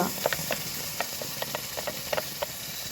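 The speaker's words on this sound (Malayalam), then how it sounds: "പഴം അടിയിൽ പിടിക്കാതിരിക്കുന്നതിന് ഇങ്ങനെ ഇളക്കി കൊടുത്തുകൊണ്ടേയിരിക്കണം." Mashed Palayamkodan banana being stirred in hot ghee in a pan for banana halwa: a soft, steady sizzle with irregular light scrapes and clicks of the spoon against the pan, close and alone.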